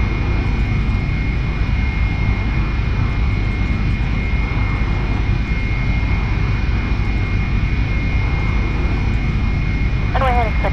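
Steady, loud engine roar of an L-39 Albatros jet in flight, a constant whine and rumble filling the cockpit, with a voice briefly heard at the very end.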